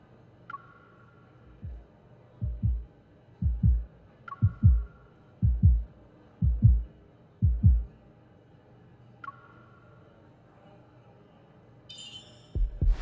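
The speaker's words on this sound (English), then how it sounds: "Now we're hearing our heartbeats." Heartbeats in the video game Love and Deepspace thump in soft double pulses, a steady lub-dub rhythm repeated about six times, with faint chime tones recurring in the background.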